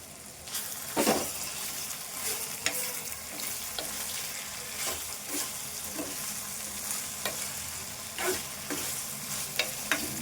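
Curry leaves hiss and sizzle in hot oil in a pan for prawn curry, a steady frying crackle with repeated scraping stirs of a spoon, close and clear, no speech.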